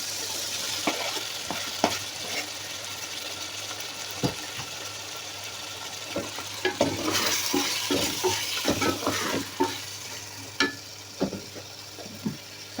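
Chicken karahi with tomatoes frying and being stirred in a wok, a steady sizzle with repeated scraping and clattering strokes of the spoon against the metal, close and fairly loud, with no talking.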